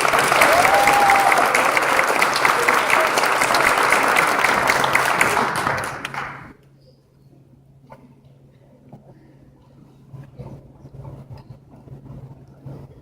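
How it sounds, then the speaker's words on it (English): Banquet guests applaud the varsity boys basketball team at an end-of-year dinner, a loud, steady wash of clapping for about six seconds that stops abruptly, followed by quiet room noise and faint murmurs. "Round of applause for our varsity."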